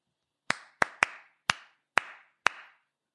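Six sharp hand claps, close and alone, in an uneven rhythm that taps out the beat of a song, each with a short decaying ring.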